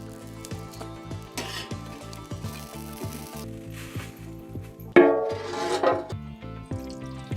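Coriander seeds, cumin, mustard seeds, cloves and cinnamon sizzling in hot oil for a sea fish curry, a loud crackling burst that flares up and fades under background music.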